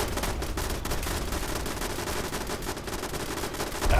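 Gunfire in Fallout 76, a steady stream of rapid shots rattling continuously throughout over game ambience at moderate loudness.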